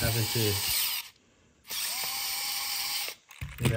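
A Vessel 220USB electric screwdriver whirs at high speed in two bursts with a short pause between, with brief bits of talk at the start and end.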